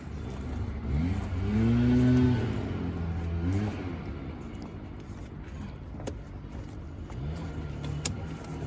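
A Kubota L3901 tractor with its PTO engaged hums steadily with a low rumbling drone, briefly rising then settling into an even running tone, with a sharp click near the end.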